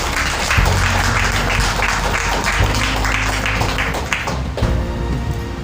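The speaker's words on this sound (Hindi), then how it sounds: "जोर से ताली बजाएं." A church congregation claps loudly and steadily during a Good Friday sermon, a dense sustained round of applause with a few distinct taps standing out nearby.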